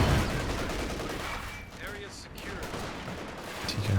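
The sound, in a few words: Grenadier squad gunfire in video game Company of Heroes 2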